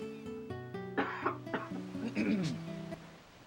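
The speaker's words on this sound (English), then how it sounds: "I'm gonna have to cough." A person coughs a few times in quick bursts, close up, with some throat noise, over faint background music.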